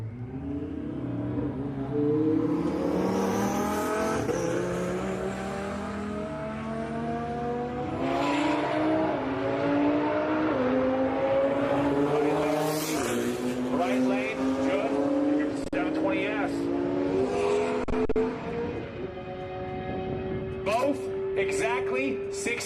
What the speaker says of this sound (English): You're the quickest man in the world in an R35 GTR, and you can't even start at 65 in a roll race?